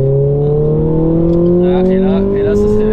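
A Renault Clio 3 RS engine revs steadily, its loud droning tone rising gradually in pitch, heard close from inside the car while people talk over it.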